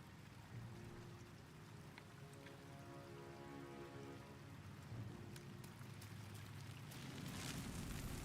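A video game waterfall roars as a steady, dense rush of falling water across the whole stretch, with soft musical tones underneath.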